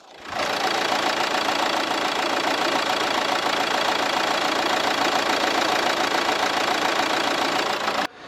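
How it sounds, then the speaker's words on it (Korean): A diesel car engine idles steadily and loudly up close, a continuous rumbling clatter that holds even throughout before cutting off at the end. "엔진 소리도 정말 정숙한 디젤 사운드만 잘 내고 있었습니다"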